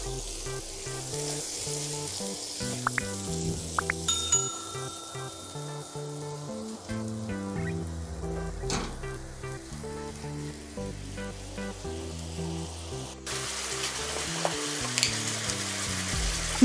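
A spice mixture for a potato dish frying in a pan, a steady moderate sizzle over a long stretch with occasional clinks and scrapes of mixing, and a brief louder burst near the end.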